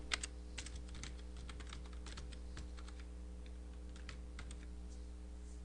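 Steady, soft typing on a computer keyboard while entering a spreadsheet formula, with irregular clicks over a low background hum and no talking.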